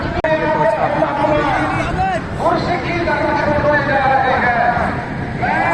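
Large crowd chattering at a Guru Tegh Bahadur jayanti gathering in Kharghar, Navi Mumbai, a continuous dense babble of many voices close by, with individual voices rising and falling within the hubbub.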